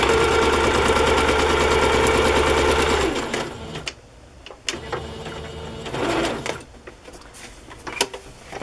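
Sewing machine running a straight stitch down the center line of vintage fabric, a loud steady whirring hum for about three seconds, then stopping, followed by scattered handling clicks and rustles.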